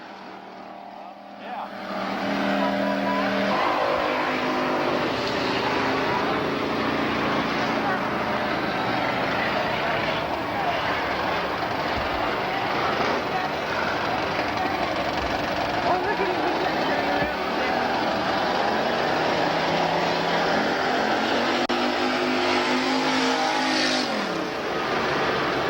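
Race cars lap Manzanita Speedway on a 1996 practice night. Loud engines drone, rise and fall in pitch as they pass and accelerate, and sustain for the whole stretch while someone talks over them.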